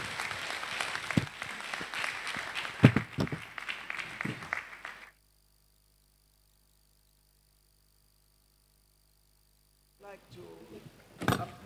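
Audience applause after a paper presentation at a live-streamed session, a burst of claps for about five seconds that breaks off into silence, with a voice returning near the end.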